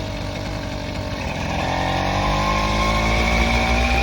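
A small two-stroke engine fitted to a bicycle runs steadily and loudly up close, its buzzing drone rising in pitch as it revs up partway through.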